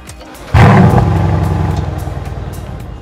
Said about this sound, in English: It's an outstanding performance car with a soundtrack of a V8